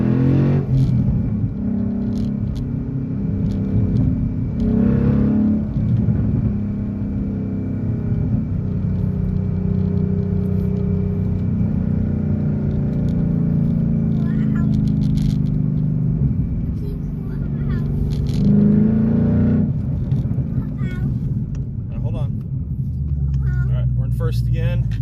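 A 2012 Ford Mustang Boss 302 using launch control, its engine rumbling and revving steadily from inside the car while people talk excitedly over the noise.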